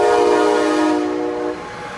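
Sustained, loud locomotive horn from a departing commuter train, a steady blaring chord that fades slightly toward the end, close by and with no talk over it.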